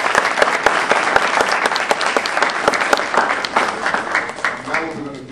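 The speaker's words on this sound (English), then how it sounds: "If we got another round of applause for Phyllis Boudreaux" A roomful of people claps loudly for a speaker at a meeting, sharp individual claps standing out in a steady burst of applause that tapers as a voice starts near the end.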